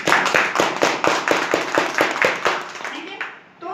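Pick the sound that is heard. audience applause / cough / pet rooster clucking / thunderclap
audience applause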